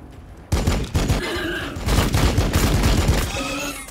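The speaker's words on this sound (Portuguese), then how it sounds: "Agora tiros." Rapid gunfire in the strategy video game Warhammer 40k Battlesector. After a brief quiet start, loud overlapping bursts of shots and booms come in a dense, continuous barrage.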